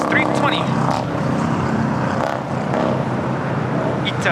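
A Volaris Airbus A320 roars on its takeoff run at an airport, a loud sustained engine rumble close by, while people talk over it.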